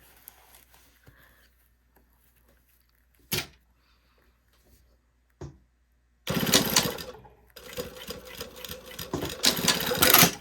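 A sewing machine tacks down a garment lining in a quiet room, its motor whirring in two bursts of a few seconds each with a short pause between, after scattered soft handling knocks.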